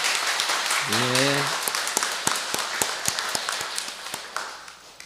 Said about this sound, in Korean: 우리 모두를 위해서 한번 박수치고 시작해 볼까요?